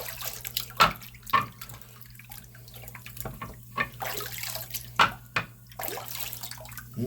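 Water splashes and trickles while a sharpening stone is rinsed during knife honing, with several short splashy bursts and steady running water, close and moderately quiet.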